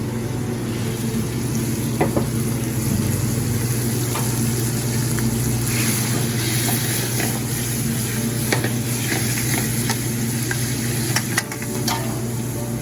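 Shrimp sizzle and fry steadily in a pan with garlic for scampi fra diavolo, a loud continuous crackle broken by occasional clinks and stirring scrapes.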